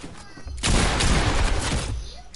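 Gunfire in a PS4 shooter game, a sudden loud burst of overlapping shots that rings on for nearly two seconds, then fades, close and dense.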